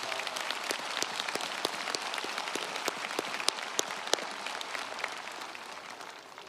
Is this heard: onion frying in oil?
no